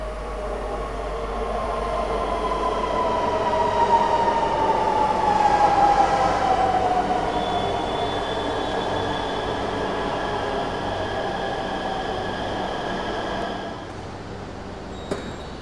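An RRTS rapid rail train running along the line from Sahibabad to Duhai, beside the NH 58 highway, heard from inside the coach as a steady close rumble with a faint rising whine, no talking.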